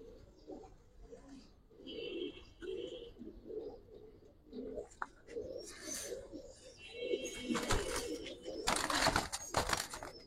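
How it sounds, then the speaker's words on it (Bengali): Giribaz pigeons in a loft in Old Dhaka coo repeatedly in low, throaty bursts, with chirps and a brief rush of wings growing louder toward the end. "অনেক সুন্দর সুন্দর কবুতর কিন্তু এখানে মাশাআল্লাহ আছে"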